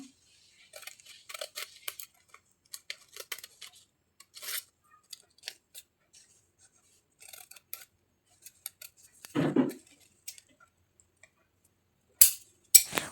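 Scissors snip through fabric while cutting the separate belt piece for a chudidar pant, a close run of short, irregular crisp cuts with quiet pauses, light rustling of cloth and a duller thump near the end.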